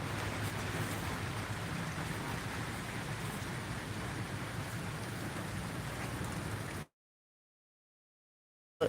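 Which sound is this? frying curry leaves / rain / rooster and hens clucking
rain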